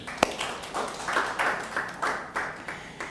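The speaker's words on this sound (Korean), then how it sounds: "하나님께 영광의 박수를." A church congregation claps during a Wednesday worship service, producing a quiet run of short, rhythmic bursts of hand clapping over about three seconds.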